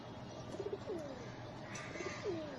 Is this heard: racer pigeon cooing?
yes